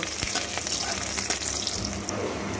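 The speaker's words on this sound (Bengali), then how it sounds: "এবার এই মাছ ভাজা তেলের মধ্যে আমি কয়েক কোয়া রসুন দিয়ে দিলাম। রসুনগুলোকে একটু ভালো করে ভেজে নেব।" Garlic cloves frying in oil left from frying fish: a steady, dense crackling sizzle, close and even, with a few light clinks of a utensil and no voices.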